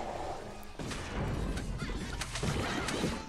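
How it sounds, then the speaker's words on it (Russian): Zombie chickens in the Plants vs. Zombies 2 video game, clucking amid crashing and thumping game effects, with several sharp hits crowding together over a busy background. "Да сколько этих куриц-то тут в конце-то концов, а?"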